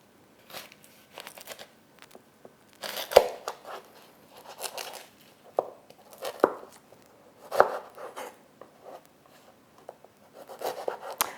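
An onion being chopped on a board for German fried potatoes (Bratkartoffeln), making quick bursts of close knife strikes and crunchy cuts separated by short pauses, with no talking.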